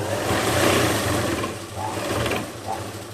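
A sewing machine runs slowly while stitching falls onto a saree over an area with stones, producing a continuous close mechanical whir with a low hum that eases and swells slightly.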